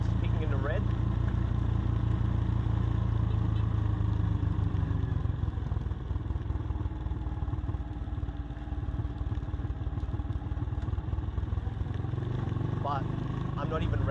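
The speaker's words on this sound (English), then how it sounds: "I can see that the exhaust is peaking. It's peaking on the mic." Motorcycle exhaust rumbling continuously and loud, close on a wireless mic mounted on a rider with an Insta360 X3, the engine lightly loaded while decelerating downhill, with someone talking over it.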